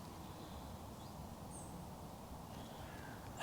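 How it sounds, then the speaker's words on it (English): Birds call in a quiet forest at first light, with a few faint, thin distant calls scattered over a steady hiss of background ambience. "And it's just all the birdie noises."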